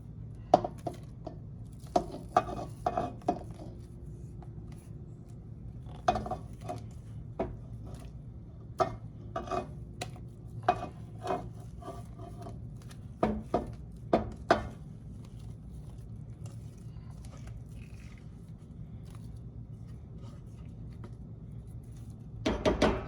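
Potatoes are stirred into a pot of simmering shepherd's pie soup, with repeated close knocks and scrapes of a spoon against the pot at an irregular pace, and no talking.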